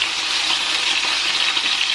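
Chicken fries in a pan for nasi goreng rica rica, a steady, close crackling sizzle with no talk over it.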